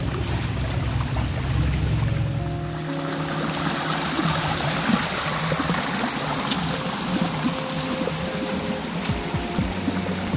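Natural spring water pours steadily from a stone spout at a temple, a continuous close splashing flow, alone with no talk.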